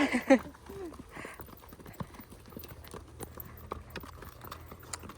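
Two horses walk near a river, their hooves clip-clopping in a quiet, regular rhythm, with a brief voice at the start and soft background ambience.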